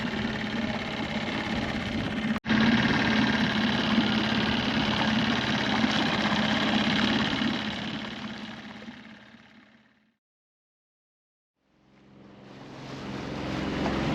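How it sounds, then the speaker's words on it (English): A Catalina 30 sailboat motors along in calm conditions, its engine droning steadily and fairly loud with water noise, then fading out into silence before returning. "No wind, so we're motoring the whole way to San Pedro"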